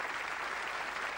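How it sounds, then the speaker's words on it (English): A studio audience on the 1987 British game show Bullseye claps in a dense, steady wash of applause, loud and close, with no voices over it. "Give them all a round of applause."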